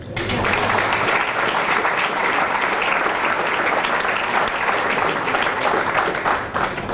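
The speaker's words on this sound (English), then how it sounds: "I think that's worthy of applause." Sustained audience applause at a fall classic event in Bristol, Pennsylvania, a loud, dense and steady clapping from a large crowd that holds level for several seconds without talk over it.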